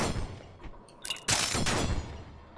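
Explosions in the video game Eagle Island: a burst of sharp blasts and crackling booms, loud and close, then a sustained rumbling roar with no talk.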